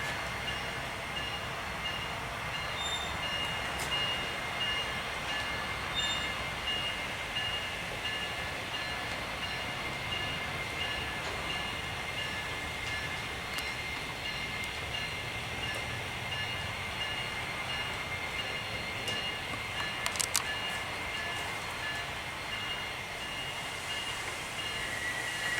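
A model train runs over a trestle bridge with a steady, faint rolling rumble and light clatter throughout, a few brief ticks near the end and no talking.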